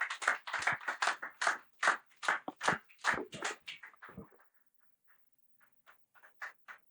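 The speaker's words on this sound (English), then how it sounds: "A round of applause for Doctor himself." A small audience claps for a doctor after a conference presentation. The claps are distinct and fairly brisk, then trail off into a few scattered, fainter claps.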